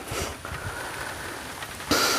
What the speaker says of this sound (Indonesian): Sekarang kita ngobrol sambil muter karena ini sudah hujan teman-teman.